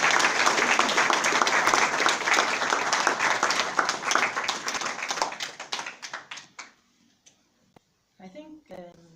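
A lecture-hall audience gives sustained applause after a memorial lecture on the peasant question, dense clapping that thins out and fades to scattered claps, with a voice briefly speaking at the end.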